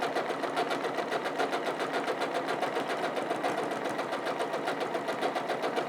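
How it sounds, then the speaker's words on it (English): A sewing machine quilts straight lines and sharp zigzag angles across a patchwork block, its needle chattering in a fast, even rapid-fire rhythm, close and steady for several seconds with no talking. "I'm just stitching straight lines and sharp angles like zigzaggy shapes, coming to a point,"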